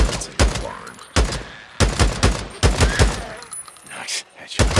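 Days Gone gunfire near an abandoned farmhouse and barn gives several loud, sharp shots with low booming tails, spaced irregularly, with a voice heard between them.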